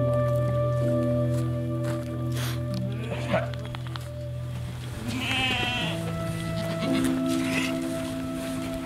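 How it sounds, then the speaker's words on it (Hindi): Sheep and goats bleat as they are let out of their pens in rural Kyrgyzstan, several calls standing out over a steady hum of other sound. "जब वो भेड़ और बकरियों को बाहर छोड़ देते हैं।"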